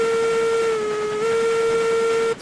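A steam locomotive whistle in the train game RailRoads Online, hauling a Cook Consolidation with five hoppers up a grade, one long steady loud blast that holds its pitch for over two seconds and then cuts off.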